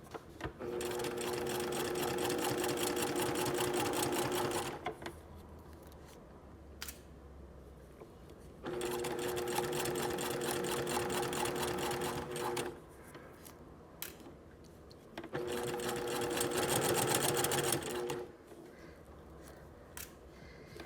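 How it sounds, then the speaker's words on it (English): A sewing machine stitches along a zipper in three long bursts of steady, rapid needle whirring, each several seconds, separated by quieter pauses with small handling clicks, close and clear with no talking. "sew as far down as you can without stitching onto the other side that's folded back towards you"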